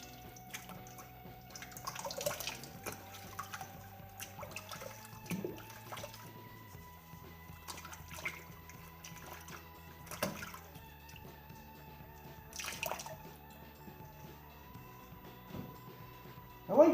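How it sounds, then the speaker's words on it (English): Water trickles faintly from a kitchen tap as a shaving brush is rinsed, with soft intermittent splashes and drips over a low steady hum. "Wash the brush."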